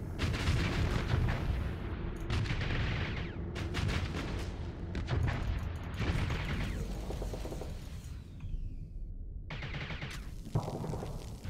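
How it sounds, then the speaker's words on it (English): Missiles launch in the space combat game StarSector: repeated heavy booms and whooshing bursts overlap with mechanical clanks in a dense, continuous barrage, dipping briefly before another loud launch. "Launch more missiles."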